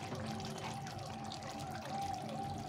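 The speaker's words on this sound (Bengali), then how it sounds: "1 চামচ ঘি দিয়ে দেবো" A spoonful of ghee is poured into a cauliflower and chhena curry, giving a soft continuous trickling pour with faint cooking noise around it.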